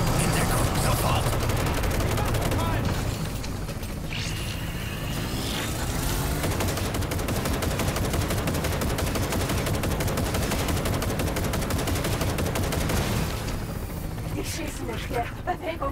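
Gunfight in Cyberpunk 2077, Phantom Liberty, with loud, dense, continuous automatic gunfire rattling without pause for most of the stretch before easing near the end, and voices mixed in.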